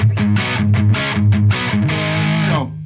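Electric guitar played straight into a 1985 Marshall-style '800' amp with EL34 power tubes and no pedal, giving a loud, crunchy distorted tone in a few chugging strummed phrases before ringing out on a sustained chord.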